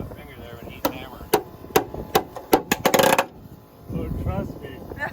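A hammer strikes metal purlin hangers on a pole barn rafter during construction, giving several sharp, ringing hits that speed into a quick burst, with a voice talking faintly before and after.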